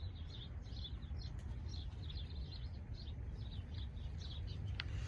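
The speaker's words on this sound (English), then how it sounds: "Can you hear the birds right now?" Several small birds chirp and twitter repeatedly outdoors, light and fairly distant, over a steady background hiss with no talking.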